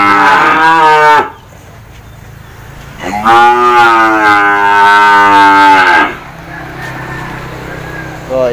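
Cattle moo loudly and close by, two long drawn-out calls, at a Vietnamese farm selling a batch of four humped bulls, with someone speaking briefly between them and low outdoor background noise.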